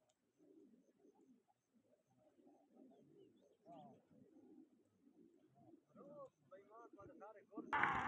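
Pigeons coo softly in a series of low, rolling calls during a pigeon flying contest, with quiet murmuring voices in the background and a sudden loud noise burst at the very end.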